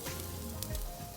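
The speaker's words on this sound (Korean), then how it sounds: "지글지글" Quiet, continuous sizzling of pork neck frying on a wood stove, a soft crackling hiss with a low rumble underneath and no voices.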